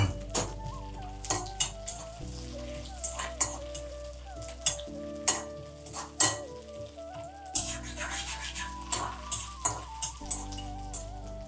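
Mustard seeds and curry leaves fry in ghee for an Onam sadya pineapple pachadi, a continuous crackling sizzle broken by sharp, repeated clinks of a spoon stirring against the pan, with soft music underneath.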